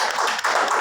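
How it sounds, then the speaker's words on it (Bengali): Audience clapping in a gathering, a brief dense burst of hand claps heard close, lasting under a second. "স্যারের জন্য একটা জোরদার করতালি"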